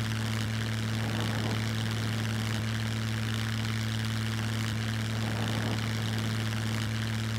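A propeller airplane in the survival game SCUM drones steadily overhead, a constant engine hum with strong low tonal bands and no break across the whole stretch, fairly loud and alone.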